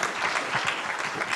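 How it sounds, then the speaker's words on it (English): Applause from an audience at a tech summit in Kenya, a steady dense patter of many hands clapping throughout the short stretch, loud and continuous with no talking over it. "A round of applause for Stephen."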